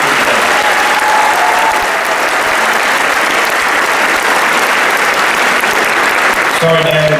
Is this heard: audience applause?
yes